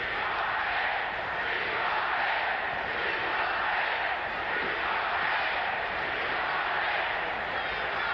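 A record crowd of about 19,000 fans at the 1973 NBA All-Star Game fills the basketball arena with a steady, distant roar of chanting that never drops out.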